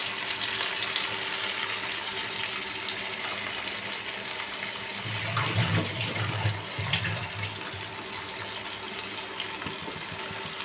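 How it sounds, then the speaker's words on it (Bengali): Prawns fry lightly in a pan for a papaya curry, giving a steady close sizzle throughout that swells into a heavier, bubbling burst midway before settling back. "দেখো, আমি চিংড়ি মাছটা ভেজে নিচ্ছি।"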